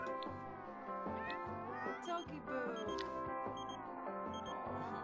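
A cat meows in The Sims 4, island-life setting, while a pet is being stroked. The meows are brief and sit among busy game music and effects, with speech present in the mix.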